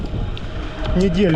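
Steady wind buffeting a microphone outdoors on the Crimean coast in April, a constant low rumbling roar running throughout beneath a man's speech.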